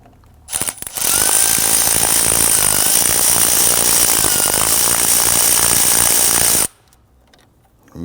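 Power tool whirring steadily for about five seconds, loud and close, as a T25 Torx bit backs out the screw of a small plastic clamp on the AC suction hose of a 2009-2017 Volvo XC60, with brief clicks before it starts.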